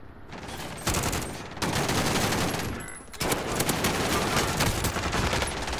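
Bursts of rapid automatic gunfire in the Call of Duty video game rattle in long, dense volleys with brief pauses between them, loud and close.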